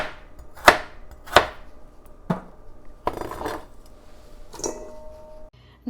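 A knife slices carrots sideways on a cutting board, giving several sharp, distinct thuds spaced irregularly, with a short scraping sound between them, close and clear, no talking.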